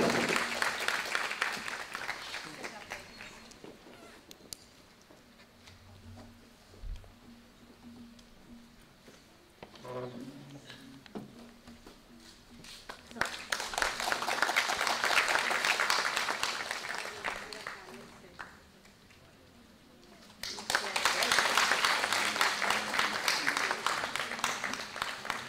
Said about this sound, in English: Please give a big round of applause to all the dignitaries.